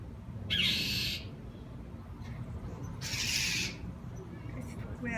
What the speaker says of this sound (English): Those are some freaking birds trying to attack my poor cat.